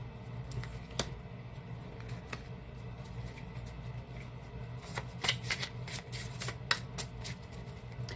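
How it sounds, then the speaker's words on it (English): Oracle cards being shuffled by hand during a reading, soft papery riffling and rubbing with a few sharper snaps, busier toward the end, close and quiet with no speech. "And I'm throwing cards again."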